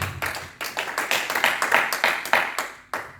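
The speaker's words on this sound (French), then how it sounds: "On acclame le Seigneur." A church congregation applauding: sharp, irregular handclaps in a fairly quick rhythm, close and bright, from a modest number of hands rather than a large crowd roar.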